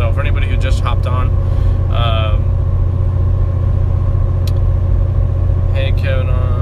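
A truck towing a trailer that carries a Hellcat drives along with a loud, steady low engine and road drone filling the cab, while a person talks over it intermittently.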